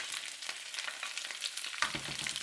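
Garlic and chopped ginger frying in a hot pan, a close, steady crackling sizzle with small pops and a brief stir near the end, no talking.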